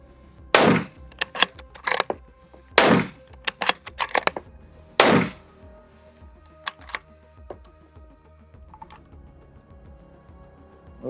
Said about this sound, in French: On va enchaîner 3 cartouches à 10 mètres.